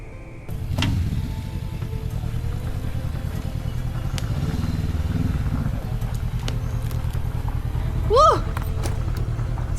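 Motorcycle riding along a scenic road on the island of Langkawi, its engine droning steadily throughout with constant wind and road noise. A voice talks over the ride, and a brief chirping call rises near the end.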